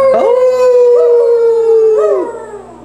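A person imitates a wolf howl on a film set, producing a loud, close, sustained howling tone with a few rising swoops over about three seconds.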